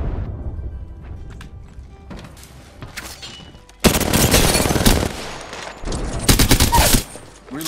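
Apex Legends gunfire with scattered quieter shots at first, then loud sustained bursts of automatic fire breaking off and resuming in a second heavy volley.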